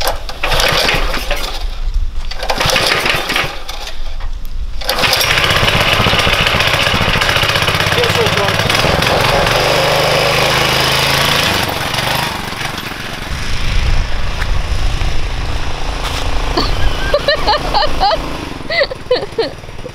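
A budget off-road go kart engine runs loud and steady for most of the stretch with a harsh mechanical drone, dipping briefly near the start and turning rougher and more uneven toward the end, with some talk mixed in.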